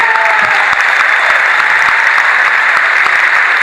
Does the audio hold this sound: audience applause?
yes